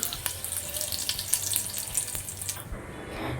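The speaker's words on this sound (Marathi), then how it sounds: "तेल व्यवस्थित तापलं की त्यामध्ये मी मोहरी टाकून घेणार आहे मोहरी तरतरली की जिरं टाकून घ्यायचं आहे" Mustard seeds and cumin splutter in hot oil, making a close, steady sizzling hiss with small popping crackles scattered through it, without any talk.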